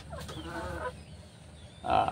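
A tame red junglefowl rooster (manok labuyo) crows up close, a short strained call followed after a pause by a louder burst at the end, with farmyard background noise.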